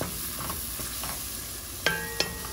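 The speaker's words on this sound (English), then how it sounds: "And then I'm gonna stir it." Vienna sausages are stirred in a hot pan over a steady, faint sizzle, with two sharp utensil clicks against the pan near the end.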